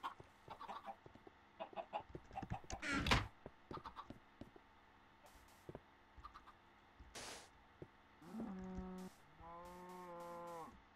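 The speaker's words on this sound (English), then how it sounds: "So many chickens" Chickens clucking in a video game, a scattering of short clucks and squawks with a sharper burst near the start, then rising tonal calls toward the end, fairly quiet overall.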